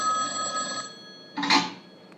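An old-style telephone bell rings once in a radio play, a bright ringing tone that stops and is followed by the handset being picked up with a short clatter, all with no talk.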